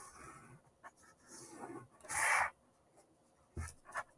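Quilt fabric being folded and handled, a series of soft rustles and rubs with one louder brushing swish in the middle and a couple of brief scuffs near the end, close and quiet with no talking.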